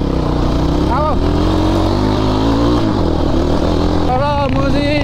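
A dirt bike engine on a village trail revs twice in sharp rising bursts over a steady, close rumble, with a voice speaking over it.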